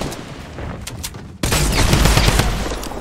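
Gunfire in the Fortnite video game: a sudden loud, dense burst of rapid shots starts midway and keeps going, following quieter scattered shots and game noise at the start.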